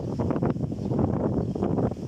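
Strong storm wind roars and buffets a microphone in a steady, broad rush with no talk.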